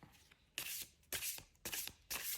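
A Wheel of the Year tarot deck is shuffled by hand in four quick, crisp riffling bursts, close and fairly quiet, with brief pauses between them.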